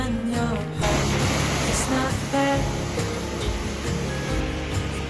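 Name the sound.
mountain torrent and waterfall spraying water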